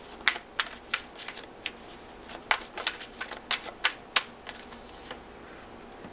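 Oracle cards shuffled by hand during a Gemini tarot reading, a run of quick, crisp riffling snaps and soft slides, close and fairly quiet, with no voice.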